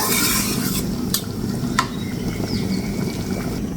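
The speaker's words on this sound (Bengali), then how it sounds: "জিরার গুঁড়োটা দিয়ে নেড়ে চেড়ে নামিয়ে নিচ্ছি, কারণ ঝোলটা একদম গাঢ় হয়ে গেছে" A spoon stirs a thick fish curry with cumin powder in a pot, soft scraping and bubbling sizzle close by, with a few sharp metallic clicks against the pan.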